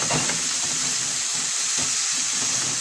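Onions sautéing over high heat in a pan, a constant loud sizzle and hiss with faint scraping stirs underneath, steady from start to end.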